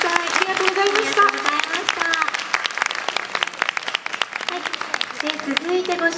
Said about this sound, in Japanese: 両前大鼓保存会遠征動員の皆さんに大きな拍手をお送りください